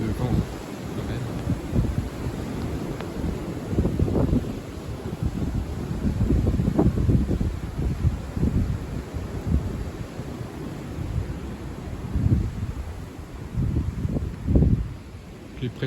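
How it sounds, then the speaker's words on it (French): Strong wind from the edge of storm Éowyn roars and buffets the microphone in repeated gusts, rising and falling over a low rumbling background. "Que c'est Ewan qui provoque tout ce vent quand même"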